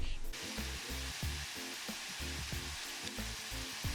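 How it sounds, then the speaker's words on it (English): Ground beef browns in a pan with a steady, hissing sizzle, broken by a rhythmic, muffled thudding pattern underneath that repeats throughout. "So while I am finishing up the browning on our ground beef"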